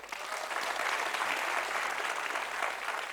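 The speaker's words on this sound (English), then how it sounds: "I want you to all give him a round of applause whenever I pause" A seated audience at a conversation event with author Ruskin Bond gives a steady, full round of applause, a dense wash of many hands clapping that holds evenly from start to finish with no voices on top.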